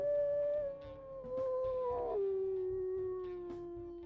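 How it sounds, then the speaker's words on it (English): A gray wolf in the WolfQuest video game howls in one long sustained call that slides down in pitch partway through, loud and clear with nothing else beneath it. "we'll listen to her howls."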